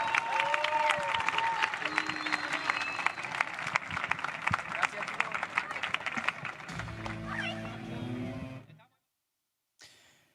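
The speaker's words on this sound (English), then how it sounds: "A big applause for the winners, Mike Yanguas and Franco Stupachuk." Steady applause from a crowd with mixed cheering voices for the winners of the FIP Platinum Albania padel finals on Central Court, continuing for several seconds before cutting off into silence, with a brief burst near the end.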